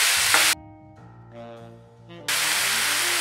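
Onion, raw mango and green chili sizzle in a hot pan for a loud, steady hiss, which cuts out briefly midway before the frying noise returns just as strongly.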